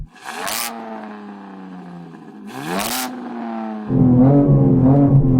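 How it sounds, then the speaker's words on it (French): BMW M4 or M5 tuned to 1,000 hp at a drag race, engine revving in two loud rising bursts with a high whine, then settling into a strong steady idle rumble. "Fais vrombir ta voiture, Sam."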